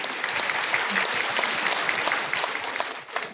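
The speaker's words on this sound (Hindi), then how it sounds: "एक बार जोरदार तालियां।" Loud, sustained applause from a large audience at a DXN gathering, dense and continuous for several seconds before thinning slightly at the end.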